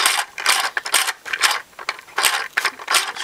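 Assembled model engine kit turned over by its drive motor, producing rapid close mechanical clattering and ratcheting ticks in uneven bursts, loud and alone.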